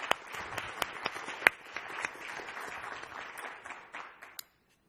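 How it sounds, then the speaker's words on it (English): Audience applause for a panel of speakers at the Hartford, a steady patter of many hands with a few sharp, louder claps standing out, fading out near the end. "let's welcome our panelists with a warm round of applause"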